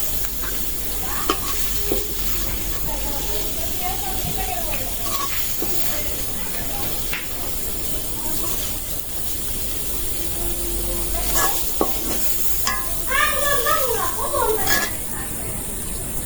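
Chicken do-pyaza being stir-fried in a pan, with a steady low sizzle and scraping stirs running throughout, occasional clatters of a utensil, and a voice talking faintly over it near the end.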